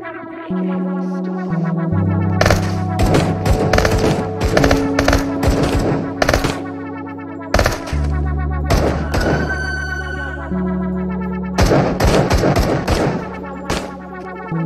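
Rapid bursts of automatic gunfire ring out in the VR shooter Into The Radius, loud and close, with sustained strings of shots broken by brief pauses, layered over droning in-game ambience and mechanical thunks.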